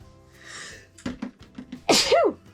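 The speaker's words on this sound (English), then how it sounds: "A sneeze." A single sharp, loud sneeze bursts out close by after a few soft breaths and small sounds.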